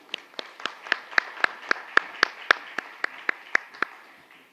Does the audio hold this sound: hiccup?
no